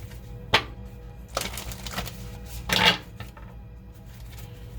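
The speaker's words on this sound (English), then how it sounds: "And one more shuffle." Playing cards shuffled by hand during a tarot-style reading, giving a few short riffling bursts separated by quieter handling, close and moderately loud with no talking.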